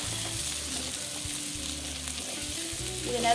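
Boiled potatoes fry and sizzle steadily in a pan while a utensil stirs them, with soft intermittent scraping and clacks over the continuous crackle; no voices.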